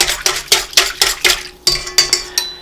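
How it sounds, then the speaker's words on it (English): A whisk beating yeast into liquid in a bowl for honey challah, about ten rhythmic metallic strokes clinking against the bowl in quick succession, close and clear, with a brief pause midway. "I'm going to add my yeast, and I'm going to whisk that till it's dissolved"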